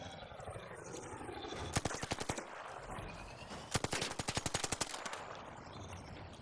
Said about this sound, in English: I'll come and help you shoot that thing